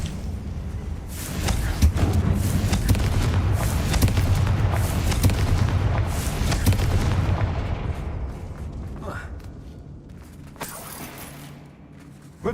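A Confringo fire-blast spell explodes in Hogwarts Legacy, a loud booming blast with crackling debris that rumbles for several seconds before fading, followed by a couple of fainter sharp bursts.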